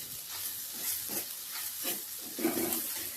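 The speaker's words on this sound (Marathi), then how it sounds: "कांदा टोमॅटो पटकन परततात आणि त्याचा वास पण लगेच जातो. 2 मिनिटं परतून घेते मी." Onion and tomato sautéing with salt in a pan for a dhaba-style methi masala, a soft steady sizzle with a few scraping stirs, close and fairly quiet.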